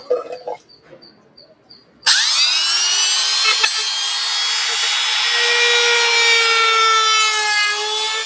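A power tool shapes the wooden edges of a swan automaton, starting abruptly after faint handling noises and whining loud and steady as the bit grinds against the wood.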